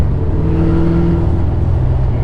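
A 1993 Ford Mustang GT with a freshly installed 306 V8, still being broken in, drives with a steady, loud engine drone and a rising tonal whine, close by with no talk.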